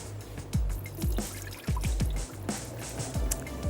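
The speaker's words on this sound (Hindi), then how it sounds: "थोड़ा सा मैं इनका पानी गिरा देती हूँ।" Water poured off soaked rice for Kashmiri biryani falls in a series of irregular splashing drips and trickles, close and moderately loud, with no voices.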